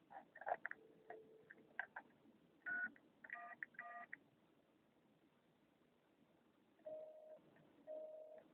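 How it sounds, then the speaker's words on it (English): A telephone keypad sends short DTMF tone bursts in several clusters, close and clean over a quiet line, with gaps between groups and a couple of longer tones near the end. "Now let me dial 311."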